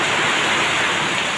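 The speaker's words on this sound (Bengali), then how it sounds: "বৃষ্টি দিতেছে, দেখতে পাচ্ছেন।" Heavy rain pours steadily during a storm in Karimganj, Assam, a dense, even hiss of downpour close by, with no voices and no break for the whole short stretch.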